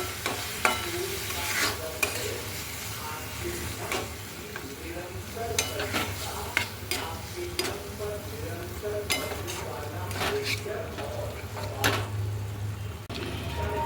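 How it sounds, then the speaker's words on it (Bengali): Paneer burji is stirred and fried in a pan, with repeated sharp scrapes and clinks of the spoon over a steady low sizzle, close and continuous. "ভালো করে মিক্স করে নেব।"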